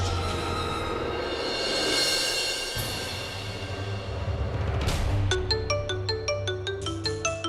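Mobile phone ringtone for an incoming call chimes in as a rhythmic melodic pattern of repeated bright tones, rising over a low background hum after a stretch of quieter ambience.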